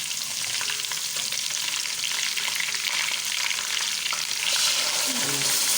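Onions frying steadily in a pan before ground tomato paste is added, a dense, constant sizzle with light stirring that grows slightly louder toward the end.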